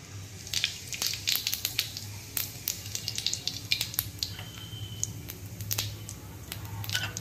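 Cumin seeds crackling in a few spoonfuls of hot oil in a kadai, a steady faint sizzle dotted with sharp little pops and spits, close by and alone under a low background hum.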